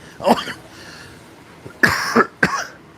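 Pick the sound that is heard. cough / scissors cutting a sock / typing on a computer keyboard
cough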